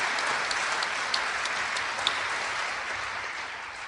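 An audience at a live jazz tribute concert applauds the pianist: a dense, steady wash of many hands clapping, fairly loud and sustained, slowly tapering toward the end.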